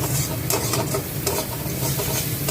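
Paneer and cauliflower fry in spiced oil in a pan, giving a steady close sizzle broken by repeated scraping stir strokes, with no voices.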